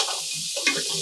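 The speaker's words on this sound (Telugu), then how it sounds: "ఇది ఒక్కసారి హై ఫ్లేమ్ లో ఫ్రై చేసుకుంటే ఏదైనా నీచు వాసన కూడా పోతుంది" Crab frying in hot oil over a high flame, a loud continuous hiss and sizzle with a brief stirring scrape partway through, close up and without voices.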